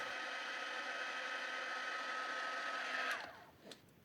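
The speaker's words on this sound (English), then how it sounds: "I'm just using my little embossing tool because it's a small mold and I don't want to overheat it." A small embossing heat tool blows a steady, loud airy whoosh over resin in a small mold for about three seconds, then cuts off, leaving a quiet room with a couple of faint clicks.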